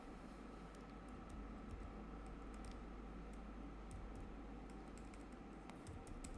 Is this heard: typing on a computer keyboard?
yes